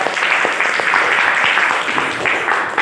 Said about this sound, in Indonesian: Tepuk tangan untuk kalian, alhamdulillah.